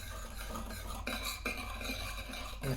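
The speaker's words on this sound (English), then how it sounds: "Just gonna give it a nice little stir over here." A utensil stirs a mushroom scallop marinade of water and sugar in a bowl without heat, giving soft scraping swirls and a few sharper clinks of metal against the dish, fairly close and with no one talking.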